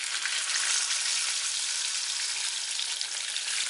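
Steady, crackling sizzle of a snapper fillet frying skin side down in hot oil in a pan, close and even throughout, with no voices.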